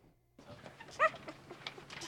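Puppies rescued from a river whimper and yip in a few brief, high-pitched cries close by, one louder yelp standing out amid soft background noise.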